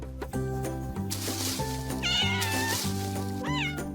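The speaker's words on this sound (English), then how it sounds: "Siamese cat." A Siamese cat meows loudly several times over a steady music bed, its cries rising and falling in pitch close to the listener with a final short call near the end.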